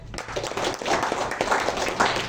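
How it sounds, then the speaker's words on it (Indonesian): An audience clapping at a business event, a short burst of dense applause that starts abruptly and holds steady for a couple of seconds. "Oke, tepuk tangan"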